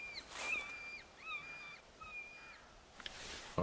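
Several whistled bird calls with rising and falling pitch steps ring out in a quiet outdoor scene of the hunting game theHunter Classic, distinct and mid-distance, followed by a brief rustle at the end.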